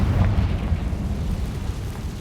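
A Confringo fire spell from Hogwarts Legacy explodes, a loud, rumbling blast that swells at the start and rolls on with a deep, sustained roar.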